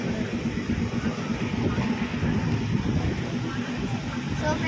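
Moving train heard from inside a coach, a constant low rumble and rattle of the carriage rolling along, with voices mixed in over the steady noise.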